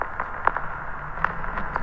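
Vinyl crackle effect on the Samplr app: sparse clicks and pops scattered over a steady low hiss, a few sharper ticks standing out, no voices.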